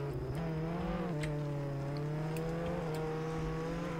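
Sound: tow truck driving off in video game Roblox Jailbreak

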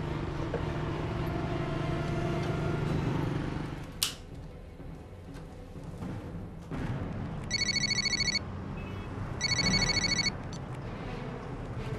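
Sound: telephone ringing

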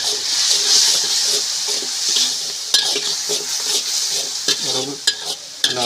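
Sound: stirring mung bean pulao mixture in pot

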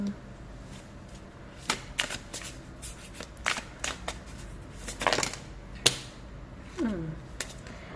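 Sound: shuffling and drawing oracle tarot cards

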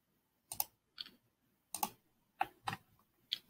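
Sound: computer mouse clicks

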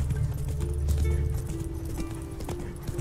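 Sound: horse Roach galloping hoofbeats in The Witcher 3 video game

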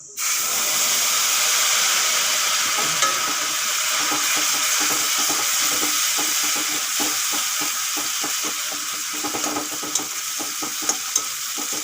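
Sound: cumin and curry leaves frying in hot oil

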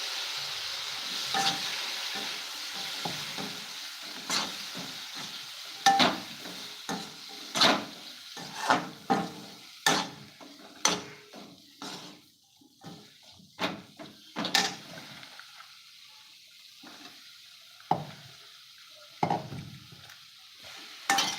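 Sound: frying brinjal pieces in a pan

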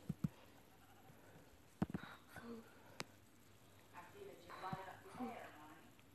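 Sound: sheep bleating in video game Minecraft

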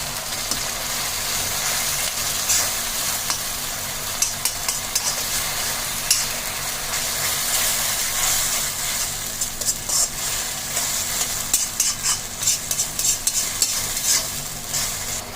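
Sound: sauce simmering in a pan

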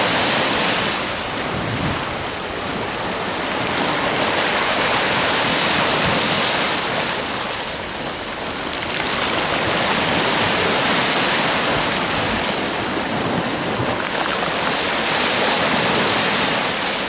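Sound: sea waves on the shore

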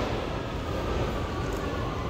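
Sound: London Underground platform ambience

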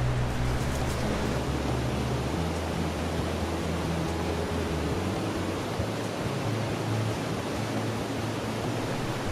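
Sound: flowing water of Beaver River creek

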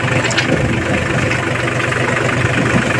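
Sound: mini tractor engine idling

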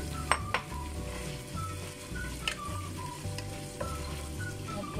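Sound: chicken slices sizzling as they are added to the frying pan for pancit

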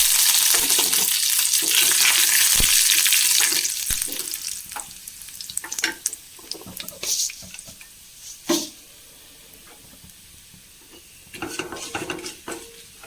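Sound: curry leaves and masala frying in oil

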